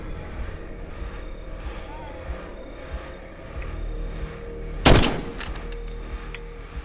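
A single sharp gunshot cracks out in the State of Decay survival video game over a low, busy background of game noise.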